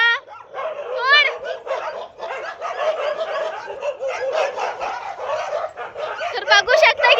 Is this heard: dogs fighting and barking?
yes